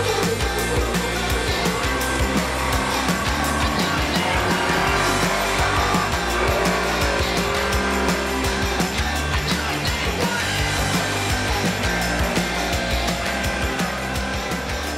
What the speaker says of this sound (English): as long as you stay on the consistent throttle and roll right up it